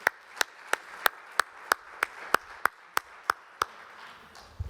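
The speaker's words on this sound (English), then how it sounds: "Round of applause." A single person claps slowly and steadily, about a dozen evenly spaced claps, at a congress session, sparse and fairly quiet rather than a full audience ovation.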